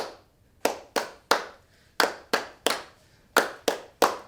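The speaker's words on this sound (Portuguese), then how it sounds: "a gente vai fazer as palmas no ritmo da música" Sharp hand claps ring out in a rhythmic pattern during a children's physical education lesson on capoeira, nine crisp, close claps in uneven groups with short pauses between them.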